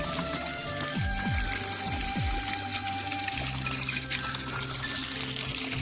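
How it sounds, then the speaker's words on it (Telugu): Water pours steadily into a bucket, a quiet continuous splashing stream with a few low thuds early on. "బకెట్లో నీళ్ళు నింపుకుందామని వచ్చినాము"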